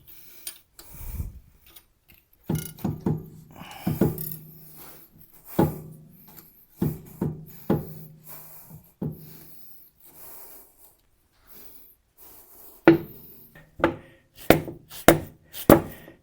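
A differential carrier slides back into a Jeep axle housing during an inner axle seal job. Scattered metallic clunks, taps and scrapes come up close and irregularly over quiet gaps, with a faster cluster of knocks near the end.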